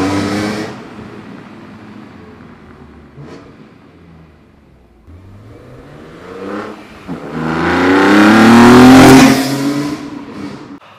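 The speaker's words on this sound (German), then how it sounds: "wenn ich hier bei 3000 ins Gas gehe und das Ansauggeräusch wahrnehme" BMW M engine, from an M3 CSL or M4 GTS, revved to around 3000 rpm with strong intake noise, swelling from a steady idle-like hum to a loud rising roar before easing off.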